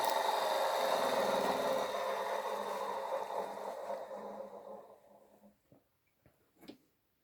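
A small motor whirs steadily, then winds down and fades to near silence, followed by a few faint clicks and taps.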